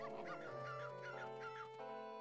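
A dog in the video game Majora's Mask gives a run of short clucking, honking calls like a chicken, about six rhythmic squawks over a steady game music background.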